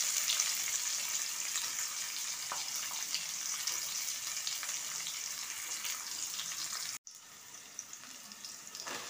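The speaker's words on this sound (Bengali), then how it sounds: "গাজর, ক্যাপসিকাম, বিট সব কিছু দিয়ে এটা আগে খুব ভালোভাবে ভেজে নেব" Chopped onion, capsicum, carrot and beet sizzle in hot oil for a street-style veg chowmein, a continuous bright crackling hiss that dips briefly near the end before resuming.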